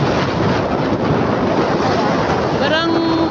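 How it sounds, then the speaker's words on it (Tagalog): Loud, rushing wind buffets the microphone over the rumble of a moving boat travelling to a beach in Calatagan, Philippines, with a voice briefly audible near the end. "Sarap ng hangin guys. Ang lamig."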